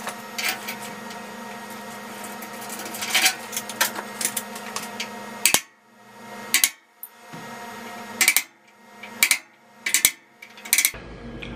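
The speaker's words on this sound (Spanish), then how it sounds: "vamos a marcarlo con el punto de golpe cada una de las perforaciones" A center punch is struck with a hammer to mark drill holes on a metal security door, with sharp metallic taps ringing out in a loose series, close and loud, over a background of workshop noise.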